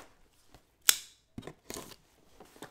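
A blade cuts through the top of a cardboard box in a few close, sharp snips and scrapes separated by short pauses, with one loud crisp cut standing out.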